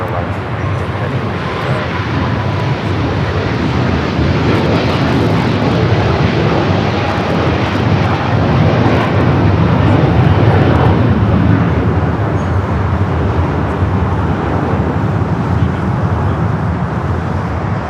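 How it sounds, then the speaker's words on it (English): A passenger jet bound for Hong Kong roars past at LAX, a loud, broad and sustained engine rush that holds steady throughout with faint talk mixed in. "That was the flight heading to Hong Kong"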